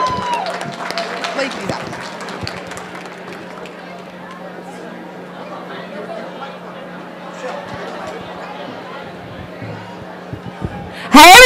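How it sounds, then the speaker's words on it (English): Crowd at a medical school Match Day ceremony claps and chatters, a broad wash of applause and voices that thins out over time, ending in a sudden loud burst. "Give a big round of applause to the class for 2024."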